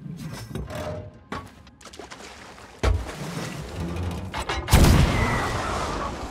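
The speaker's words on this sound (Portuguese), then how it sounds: "O canhão, pô." Ship cannons fire in the pirate video game Sea of Thieves, sounding as sharp booms followed by a larger heavy blast over rumbling ambience and water noise, without talk.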